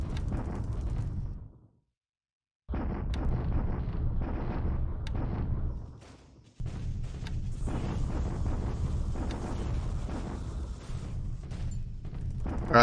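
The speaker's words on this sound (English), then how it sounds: "so we're bombarding him. Again, several artillery units for us" Artillery bombardment in the strategy video game War in the Pacific, Admiral Edition: a steady, heavy rumble of distant guns and explosions, broken by one brief silence and a short lull, with no talking.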